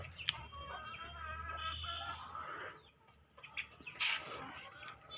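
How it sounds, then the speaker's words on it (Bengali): A chicken being cut at a butcher's, giving faint clucks and squawks over a low background hum, with a sharp louder burst of distressed calling toward the end. "এখন মুরগিটা কাটতেছে"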